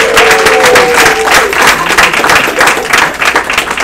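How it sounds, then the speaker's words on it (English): A room of people applauding a speaker at a day-long event: a dense, loud wash of clapping hands that holds steady for several seconds, with a brief voice at the start. "Let's give him a round of applause."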